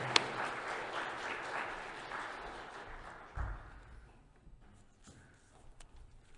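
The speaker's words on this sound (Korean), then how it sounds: "우리 인사할 때 축복의 박수 해주시기 바랍니다" A church congregation claps in blessing during a Sunday service, a fairly soft, diffuse round of applause that gradually fades out, with a single dull thump partway through and scattered faint sounds at the end.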